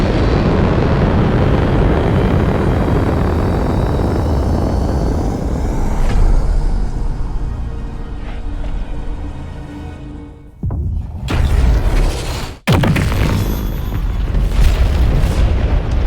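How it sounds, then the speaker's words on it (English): Rifts exploding in the video game Outer Worlds 2: a loud, continuous low rumbling roar of booming explosions that drops out briefly near the end before sharp bursts return, with no talking. "So there are all the rifts exploding over the universe."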